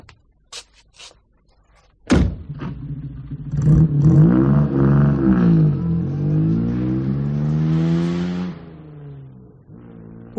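A car door thuds shut, then the engine starts and revs as the car pulls away, its tone rising through the gears before fading off.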